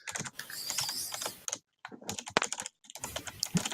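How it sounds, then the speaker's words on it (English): Rapid bursts of computer keyboard typing, close and fairly loud, coming in uneven clusters with short pauses between runs of keystrokes and no one talking. "I don't like the typing."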